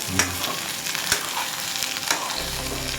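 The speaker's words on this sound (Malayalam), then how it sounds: "ഉള്ളി ഒന്ന് വാട്ടിയെടുക്കാം" Onions sautéing in a pan for a fish curry, a steady close sizzle and crackle with occasional stirring scrapes throughout.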